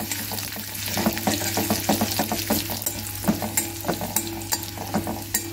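Coarsely ground garlic fries in hot oil for bread pakora, a steady close sizzle broken by frequent scraping stirs of a spoon against the pan, with no one speaking.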